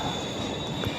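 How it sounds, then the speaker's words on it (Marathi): A passenger train pulls into a station in the Konkan at Kankavli, a dense, steady rumble of wheels and carriages with a faint high squeal, loud and continuous through a brief moment. "आली भाई, फायनली ट्रेन आली."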